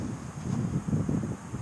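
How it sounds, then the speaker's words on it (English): Steady breezy afternoon wind blowing across an open outdoor spot, a continuous low rumbling buffet on the microphone with gentle swells and no voices. "It's a little bit breezy."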